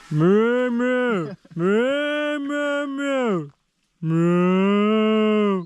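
A person imitates a cow with long, drawn-out mooing sounds, three loud sustained calls in a row with short pauses between, close and clear with no other talk.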